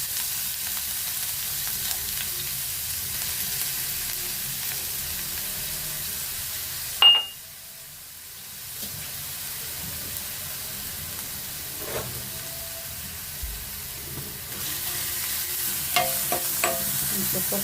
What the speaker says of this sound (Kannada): ಸ್ವಲ್ಪ ಫ್ರೈ ಆಗಲಿ, ಸ್ವಲ್ಪ ಕೆಂಪಗಾಗಬೇಕು.